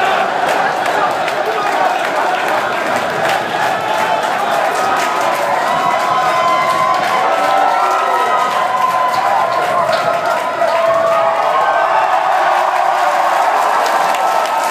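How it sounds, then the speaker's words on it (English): A crowd at a live Watsky gig in The Old Vic Tunnels cheers and shouts steadily in a dense, continuous roar, with nearby voices talking over it. "The crowd are going wild."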